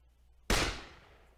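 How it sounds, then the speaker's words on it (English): A single sharp gunshot cracks out in the visual novel Secret Game: Killer Queen, a loud sudden blast from near silence that decays into a lingering echoing tail. "A gunshot."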